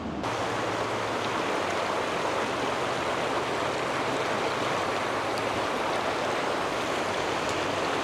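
A river waterfall rushes in a steady, loud, unbroken roar of falling water, with no pauses or other sounds standing out.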